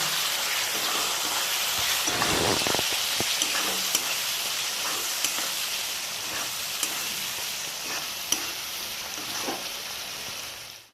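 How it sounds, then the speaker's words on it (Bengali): Turmeric and chili powder are fried with onions over a low-to-medium gas flame for a potato curry, making a continuous close sizzle with occasional soft stirring clicks and no talking. "এই সময় গ্যাসের ফ্লেমটা লো টু মিডিয়াম রেখে দিয়ে এটা কষিয়ে নেব"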